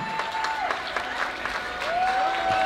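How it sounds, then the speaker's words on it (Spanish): Guests at a quinceañera party break into a steady round of applause, dense clapping from a crowd with faint music tones running underneath. "Y ese fuerte aplauso aquí para Pedro, claro que sí."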